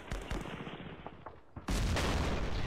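Artillery and gunfire in the war strategy game Campaign Series Middle East: scattered sharp shots and booms, a brief lull, then a sudden loud sustained barrage of fire.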